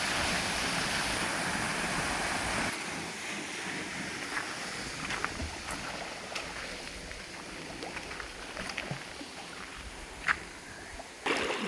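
A small waterfall at Little Baguio in San Vicente, Palawan, a steady broadband rush of falling water with wind buffeting the microphone and a few scattered knocks and splashes.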